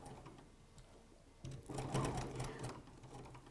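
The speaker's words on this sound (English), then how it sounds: "I'm going to stitch the seam allowance using my 1/4 of an inch patchwork foot" A BERNINA sewing machine stitches a quarter-inch patchwork seam for quilt binding, a low, steady mechanical whir that begins quietly and swells louder midway through, running continuously without any voices.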